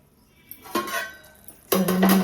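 A metal lid is set onto a pan of cooking curry, giving two sharp clanking contacts a second apart, the second one louder with a brief ringing tone.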